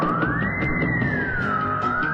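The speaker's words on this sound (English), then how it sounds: "the air is filled with a piercing, ear-splitting sound." A sonic disruptor gadget emits a piercing, ear-splitting, siren-like wail that slowly rises and falls in pitch, loud and continuous over a dense noisy background.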